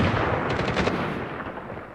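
Dense rapid gunfire in a squad-based shooter video game, loud and continuous bursts with overlapping shots, no talk over it.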